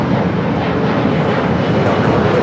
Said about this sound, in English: Spirit flight coming in from Las Vegas.